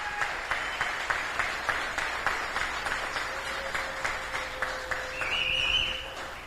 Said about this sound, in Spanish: dona você um forte aplauso, mais duro